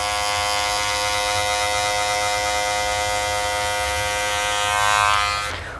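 An electric hair trimmer buzzes steadily and loudly up close while cutting a low fade haircut, a constant motor drone holding for several seconds before easing off at the end.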